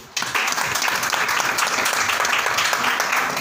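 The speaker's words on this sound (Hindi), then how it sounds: "इनके अपलाइन रोमी जो उनके लिए जोरदार तालियां" A room at a weekly business meeting breaks into loud applause for a team upline, dense, even clapping that starts abruptly and holds steady close by.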